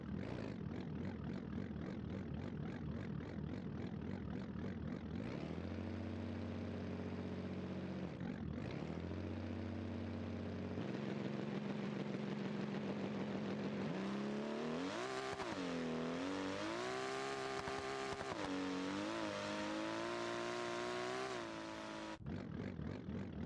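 A drag car launching off the line in BeamNG Drive, its engine revving hard and climbing through gears in long sustained pulls, loud and continuous with no talk.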